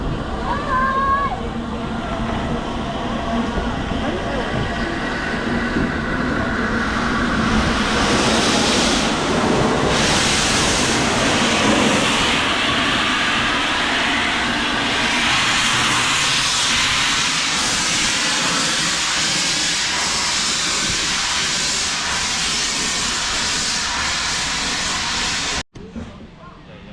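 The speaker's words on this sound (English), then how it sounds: "Scotsman is now currently backing off of the mainline station. It's just going to pass." The Flying Scotsman steam locomotive rolls past near the main line station at Didcot Railway Centre, a loud sustained roar and hiss that swells and holds before cutting off near the end.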